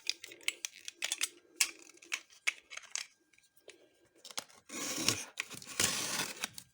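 A parcel box holding 40 game cartridges, 2.5 kg in all, is opened. Light tapping and scraping at the packaging build into louder tearing and crinkling of tape and cardboard near the end. The sound is close and no one speaks.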